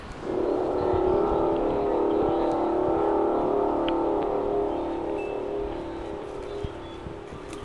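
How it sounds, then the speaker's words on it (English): Cars pass along a street on an ordinary day, a steady rolling traffic rumble with faint whooshes under a persistent droning tonal hum in the air. "Cars passing by. Listen."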